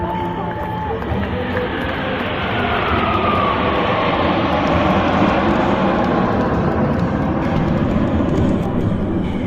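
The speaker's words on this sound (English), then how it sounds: "The Suryakiran is approaching from your left in shape of the NAT aircraft." A Suryakiran aerobatic jet formation passes over an air show at SKICC in Kashmir with a loud, steady jet roar that swells slightly as it approaches. An announcer talks over it.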